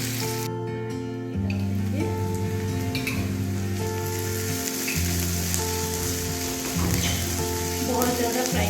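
Finely chopped onion, one medium size, fries in mustard oil with a steady, close, loud sizzle, and a tonal hum runs underneath.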